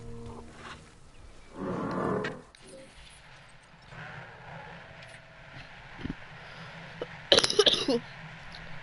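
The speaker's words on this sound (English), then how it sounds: "Sorry again for the coughing." A single harsh cough bursts out near the start, followed by quieter shuffling and a few sharp knocks toward the end.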